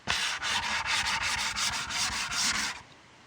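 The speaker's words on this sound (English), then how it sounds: "now I'm going to finish it up by sanding the edges of this" Steady rhythmic rasping of 220-grit sandpaper rubbed back and forth on the edges of a wooden foot massage tool, close and loud, about seven strokes before stopping.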